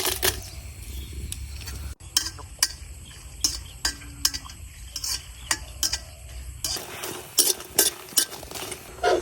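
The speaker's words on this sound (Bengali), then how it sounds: "এখন কয়েকটা শুকনা মরিচ বাজিয়ে নিলাম" Dried red chillies frying in a little oil in a wok, with repeated sharp scrapes and clinks of a spatula against the pan over a low, steady sizzle, close and fairly quiet.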